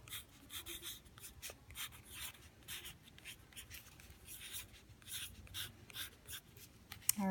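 A name is written by hand on a paper envelope, giving steady scratchy strokes in short bursts, close and quiet, with no talking.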